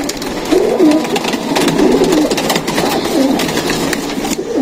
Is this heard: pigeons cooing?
yes